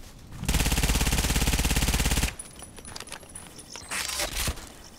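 A VSS Vintorez rifle fires in a video game, a rapid, steady full-auto burst of close shots lasting about two seconds, followed by clinking and rattling handling sounds.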